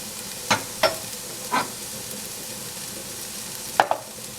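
Onions and crushed garlic fry in a pan with a constant close sizzle, broken by several short scraping stirs of a utensil.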